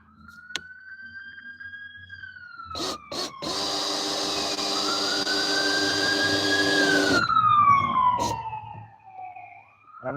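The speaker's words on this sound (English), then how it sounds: "That's an ambulance. Must be a crash." An ambulance siren wails from a distance, its pitch rising and falling in long sweeps, while a loud nearby mechanical whirring from fishing-rod rigging tools runs through the middle and a few sharp clicks break in.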